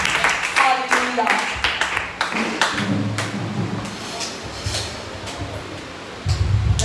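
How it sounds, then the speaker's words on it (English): A church congregation during a fasting service claps for a woman coming up to give testimony, with sharp, scattered claps that thin into softer patting while voices talk over them. "Just please clap her as she comes."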